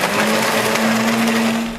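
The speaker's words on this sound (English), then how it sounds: "Pop this into the blender." A blender roars loudly and continuously, grinding and crushing a cup of ice with a harsh, dense whir up close.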